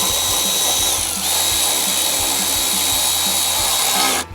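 A power tool drives 10mm bolts on the coolant tank of a 2024 Mustang Dark Horse, a loud, steady whirring that dips briefly once, then stops abruptly near the end.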